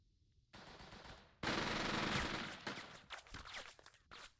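Gunfire in the tactical game Burden of Command: a sustained burst of rapid machine-gun fire followed by scattered individual shots and cracks, fairly close and dominant with no talk over it.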